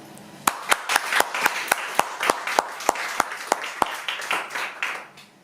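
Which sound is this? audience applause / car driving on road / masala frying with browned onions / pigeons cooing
audience applause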